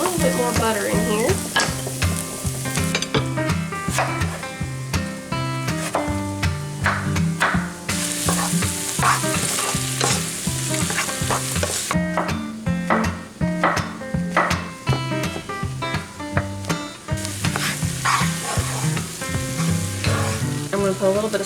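Vegetables cooking in butter in a frying pan hiss steadily, while a prominent rhythmic music track plays over the sizzle throughout.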